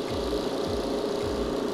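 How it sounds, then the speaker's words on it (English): A vacuum pump runs on EcoFlow Delta 3 Plus battery power, giving a steady droning hum with a rhythmic low pulsing roughly every half second, close and continuous throughout. "kick back on the vacuum pump"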